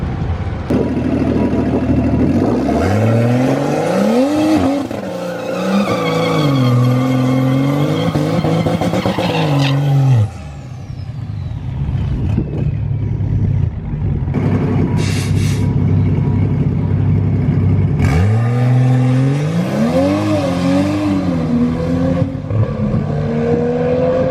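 A 2020 Toyota Supra launches hard at the drag strip, its engine rising loud and close through shifting revs, cutting off briefly, then climbing again in another strong pull.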